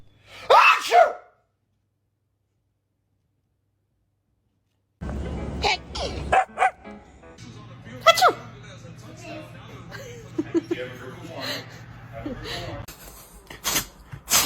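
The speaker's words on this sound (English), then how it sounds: "Pretending to sneeze on my dog." A person fakes a loud sneeze at a dog: one short, sharp burst at the start, then after a pause a room of chuckles and laughter with further sneezes and chatter mixed in.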